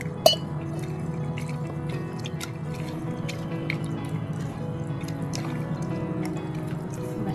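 Water trickles and drips into a bowl of onion fritter batter (kanda bhaji) in a home kitchen, a faint steady pour with small splashes running throughout, no talking.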